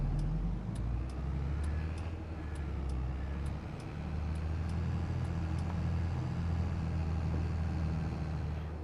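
A tractor engine in Farming Simulator 22 with an automatic gearbox: a steady low engine drone with a faint mechanical hum, continuous and fairly even, with regular light ticking clicks during the first half.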